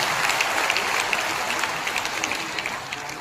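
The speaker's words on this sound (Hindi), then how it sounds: "स्वागत करिए तालियों से डॉक्टर दर्शन पाल जी।" Audience applause at a large electricity workers' mahapanchayat rally, a dense steady patter of many hands clapping throughout, fairly even and sustained with no talk over it.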